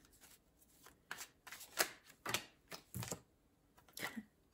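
Oracle cards shuffled in short bursts of riffling and snapping, irregular across a few seconds, fairly faint and close, with no talking.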